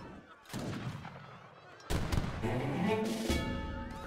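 Organ guns and artillery fire in a strategy game, heavy booming shots hitting at about half a second and two seconds in, then a dense rattle of volleys and explosions continuing loudly to the end.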